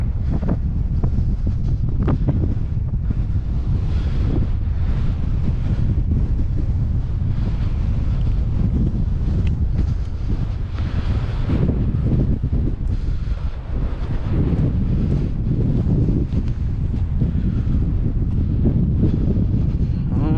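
Strong wind at a high place buffets the microphone with a constant low roar and gusty rumbling, loud and unbroken throughout.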